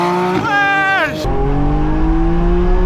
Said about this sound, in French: Ah ouais, ça gueule quand même bien.